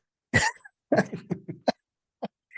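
A series of short coughs and throat-clearing sounds, close and fairly loud, separated by brief silences, with a final small cough after a pause.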